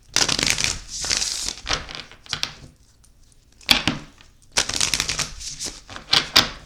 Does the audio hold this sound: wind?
no